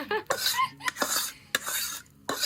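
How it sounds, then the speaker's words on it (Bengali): Rough, scraping strokes rub back and forth in uneven bursts with brief pauses as a garlic and black cumin paste is ground with a stone on a flat grinding slab. "শিল পাটায় বাটাবাটি"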